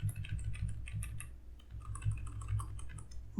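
Java code is typed on a computer keyboard: a steady stream of soft, close key clicks at an even pace, quiet and continuous, with no talking.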